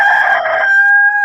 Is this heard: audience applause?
no